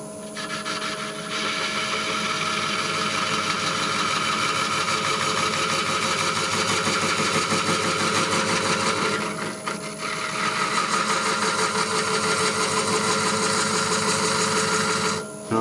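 A wood lathe turns a workpiece while a spindle gouge cuts it, giving a steady, close motor hum with a continuous scraping texture. It dips briefly twice, then resumes with no talking.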